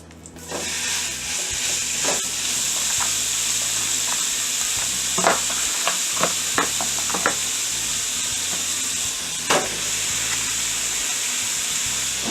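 Steak frying in an oiled pan for a cheesesteak sandwich, a loud, close, continuous sizzle with scattered sharp crackles and pops, no talk.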